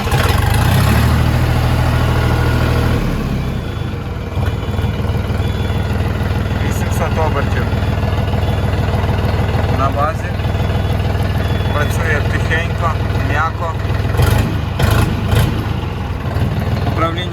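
A DTZ 244 tractor engine starts up and settles into a steady, loud idle. The low rumble runs continuously throughout, with a few brief mechanical clicks and rattles laid over it.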